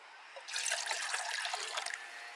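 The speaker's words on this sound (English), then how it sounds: "500 milliliters of cool water." Cool water, about 500 milliliters, pours steadily into a pan for roughly two seconds with a close, bright splashing trickle, and no talk over it.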